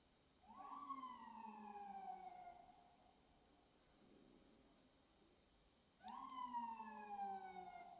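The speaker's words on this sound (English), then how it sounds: "we have to wait till the ambulance passes" Ambulance siren sweeping down in long wailing tones, one cycle at the start and another returning near the end, faint and distant over quiet background.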